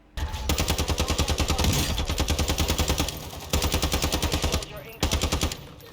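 Rapid automatic gunfire in the Warzone shooter game rattles loud and near in long continuous bursts, broken by a couple of brief pauses for a reload.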